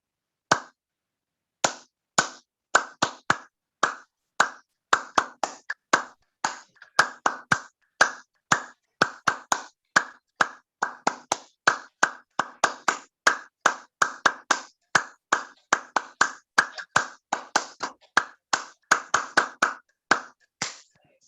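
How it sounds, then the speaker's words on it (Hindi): Rhythmic hand clapping during a laughter yoga session, a long run of crisp, evenly spaced claps, close and loud, keeping a steady beat for about twenty seconds with no voices. "ताली बजाकर अट्टहास करेंगे"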